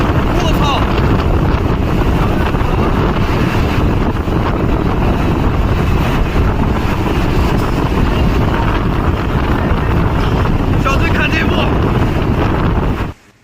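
Typhoon Bebinca's winds batter Shanghai in a sustained, roaring gust noise that buffets the microphone for about thirteen seconds, loud and close, before cutting off abruptly at the end.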